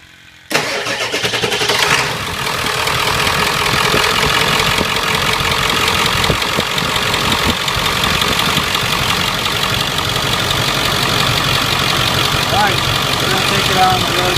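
A 7.3 Powerstroke diesel engine fitted with an air intake modification cranks briefly, fires, and settles into a loud, steady, rough idle heard up close.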